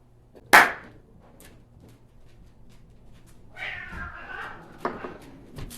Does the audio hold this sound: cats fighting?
yes